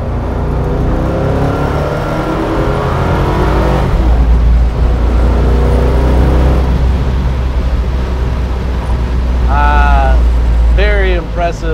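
A 1965 Ford Mustang Fastback GT350 accelerating in third gear, a loud steady engine roar from inside the car with rising pitch toward the end and someone talking over it.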